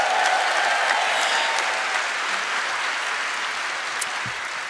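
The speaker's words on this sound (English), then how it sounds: "clap a little louder, make us look a little bit better" An audience claps steadily in a room, a sustained even roar of applause that holds for several seconds and slowly eases, with no talking over it.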